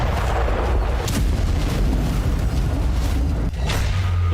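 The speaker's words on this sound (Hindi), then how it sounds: "कीव के अस्पतालों, रिहायशी इमारतों पर बारूदी मिसाइलें बरस रही थी।" Heavy, continuous rumbling blasts of missiles striking residential buildings and hospitals in Kyiv, loud and dense with overlapping booms and no pauses.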